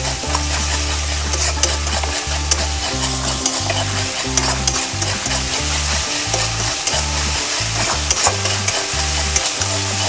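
Onion, ginger, garlic and tomato paste for an egg curry fry in a pan with a loud, continuous sizzle, while a spatula scrapes and stirs in a quick, repeated rhythm close by.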